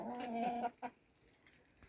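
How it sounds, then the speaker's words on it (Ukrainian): Soft clucking from hens close by as they are fed wheat, a short run of calls followed by a quiet pause and a single faint cluck. "Винесла курочкам пшенички"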